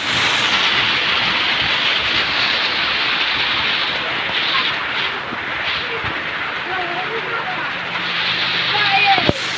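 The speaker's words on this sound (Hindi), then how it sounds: "काफ़ी तेज़ यहाँ पे पानी गिर रहा है" Heavy rain pours down in a village, a dense continuous hiss of downpour close by and loud throughout, with faint background noises under it.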